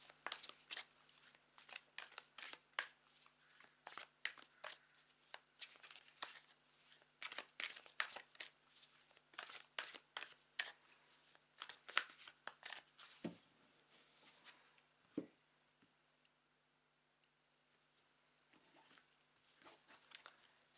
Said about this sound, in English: relaxing whilst I shuffle it